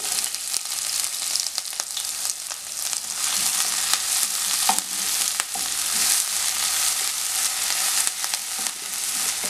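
Garlic, ginger and green chillies sauté in a hot pan with a steady, close, loud sizzle, broken by the light scrape of stirring and no voices.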